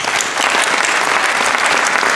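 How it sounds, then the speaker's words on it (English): Dense, steady applause from an audience at a community organization's opening remarks event, continuous and loud throughout with no pause. "Let's give a big round of applause to our partners."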